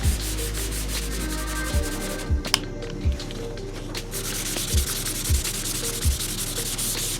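Wet block sanding over a putty-filled dent on a car body panel gives a steady gritty rubbing with repeated rhythmic back-and-forth strokes, close and moderately loud.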